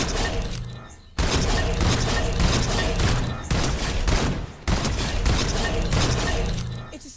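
Rapid bursts of auto shotgun fire in a Fortnite aim-training map, loud and dense, with sharp shattering impacts and brief gaps between volleys and no voices.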